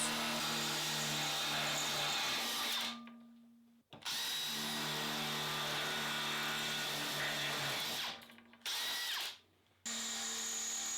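A Makita HP001G cordless drill drills into metal with 6 and 8mm bits, running at high speed with a steady loud whine, stopping briefly twice before starting again, close and continuous.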